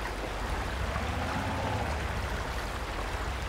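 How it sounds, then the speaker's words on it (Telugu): Flowing water in a mobile mud runner truck video game, a soft steady rushing stream with a low rumble underneath, continuous and moderately close with no voices. "వాటర్ సౌండ్ కూడా భలే అనిపిస్తుంది గైస్"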